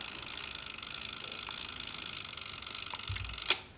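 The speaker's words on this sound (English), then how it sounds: "If you wind it up just like this and you release the shutter, the clock will be going down about 10 seconds" An Agfa Billy III medium format film camera's self-timer buzzes steadily as it runs down, ending in a sharp, crisp click of the shutter release, close and fairly quiet.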